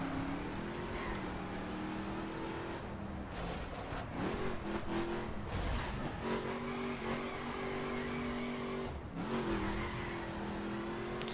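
Racing car from The Crew video game spinning its wheels through a corner, the engine revving high and shifting pitch with tire noise, loud and continuous, with no talking.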